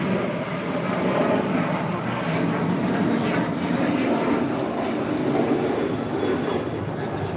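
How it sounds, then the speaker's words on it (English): A United Boeing 737-800 departs for Denver from LAX, its jet engines making a steady, broadband roar that holds loud and even throughout without letup. "This is United 1951 departing to Denver, Colorado on a 737-800"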